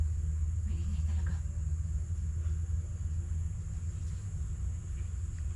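A low, steady rumble of a heavy vehicle going past, constant and fairly distant, with no voices.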